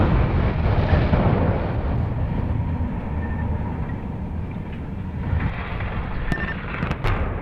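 Demolition charges bring down a coal power plant smokestack at Nanticoke, a loud, sustained rumbling roar heard from a distance that swells and then settles into a long, low echoing rumble, with a few sharp cracks near the end.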